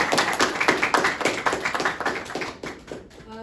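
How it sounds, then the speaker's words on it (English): An audience at a conservation talk gives a short burst of applause, quick overlapping claps that fade away after a few seconds. "Guys, one more round of"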